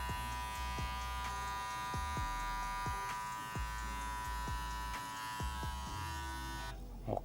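Electric hair clippers buzz steadily during a crop top fade haircut, a close, continuous high-pitched whir broken by repeated soft clicks of the clipper lever adjusting, ending with a brief fumble.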